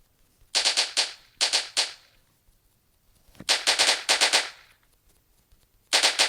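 Rapid bursts of automatic gunfire from a zombie shooting video game, several clustered volleys with brief pauses between them, crisp and close with no talk over them.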